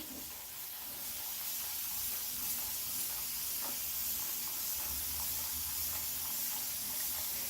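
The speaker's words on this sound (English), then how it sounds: "I'm spraying." A steady, close hiss of water spraying onto a Moluccan cockatoo in a tub runs continuously without a break, rough and even in loudness.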